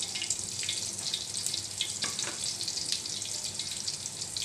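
Dry spices fry in fish oil in a pan for fish biryani, giving a steady, close, bright sizzle with a few small crackles throughout and no talking.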